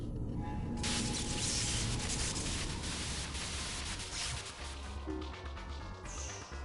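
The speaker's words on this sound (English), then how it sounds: "White noise on the screen will signal the start of battle." White noise static in the video game .hack//G.U., signalling the start of a battle: a dense, loud hiss that sweeps in within the first second and holds steadily to the end, with no talk.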